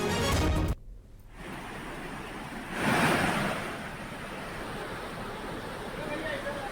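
Mandakini river floodwater pours into a row of shops with a loud, steady rushing roar that swells briefly midway, continuous broadband water noise throughout.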